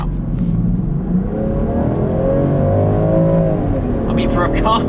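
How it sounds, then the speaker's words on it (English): A Land Rover Defender with a 400-horsepower straight-six engine accelerates, its engine note rising steadily in pitch as it pulls hard, loud and close from inside the cabin. "It is a straight 6-cylinder, 400 horsepower option."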